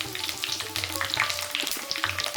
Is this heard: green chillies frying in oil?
yes